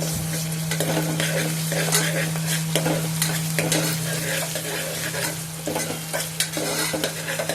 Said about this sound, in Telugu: ఒక స్పూను అల్లం వెల్లుల్లిపాయ పేస్ట్ వేసి ఆ ఉల్లిపాయల్లో ఆ పచ్చివాసన పోయే వరకు వాటిని మగ్గించాలి